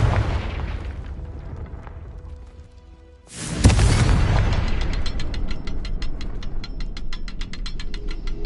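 A sudden loud boom from the Confringo fire spell in Hogwarts Legacy breaks a quiet stretch, followed by a sustained rumbling burst and a rapid, regular clicking rattle that keeps going to the end.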